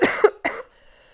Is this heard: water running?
no